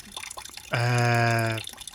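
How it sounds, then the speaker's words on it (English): Water drains from the radiator of a 6610 tractor as a steady, hollow, pitched gurgle lasting about a second, rising out of faint background noise and then dying away. "draining some water out of the radiator on the 6610"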